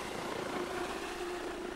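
A Comanche combat helicopter flying, a steady droning rotor and engine roar filling the whole short stretch, loud and continuous with no voices.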